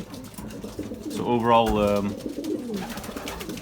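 Racing pigeons of the ace pigeon strain coo in the loft after a 200 km old bird race. A clear, nearby rolling coo rises in the middle while someone talks over it.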